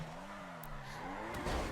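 A Porsche drifting in the video game GTA V, with tires skidding and squealing over a steady engine tone that wavers through the slide, loud and close, with no talk.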